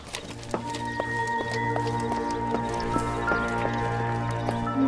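Water sloshing and dripping in a flooded scene of the LA Noire video game, a steady wet squishing with scattered drips over a low constant hum and game music tones.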